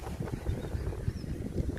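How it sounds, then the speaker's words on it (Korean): Strong wind gusting at a campsite during rain and heavy weather, a steady low rushing roar buffeting the microphone, close and constant. "바람이 앞쪽에서 불어가지고"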